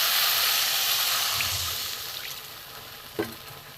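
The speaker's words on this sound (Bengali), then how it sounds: "মশলাটা কষানো হয়ে গেছে, এটা আমি সামান্য একটু জল দেব।" A little water goes into frying ground spice paste for a fish head curry, setting off a loud broad hiss that slowly fades, with a short clatter near the end.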